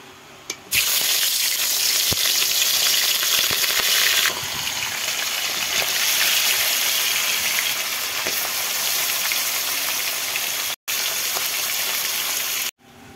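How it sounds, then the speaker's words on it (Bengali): Hilsa pieces frying in hot oil for biryani give a loud, steady sizzle that runs for about thirteen seconds with a few brief breaks and scattered pops and crackles, and no talk over it. "এবার আমি মাছটাকে ভেজে নেব।"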